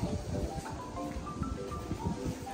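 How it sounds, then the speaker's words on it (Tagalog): Wind gusts buffet the microphone at Gyeongbokgung Palace in Seoul, a steady rumbling rush with low thumps and faint background sounds. "Ayan o, mahangin, naririnig nyo."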